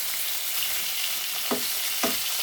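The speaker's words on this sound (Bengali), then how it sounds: "দেখুন কি সুন্দর মাছের মাথা আমি ভাজি করছি" Fish head frying over low heat in a pan, a constant close hiss of hot oil with two short scraping stirs near the end, no talking.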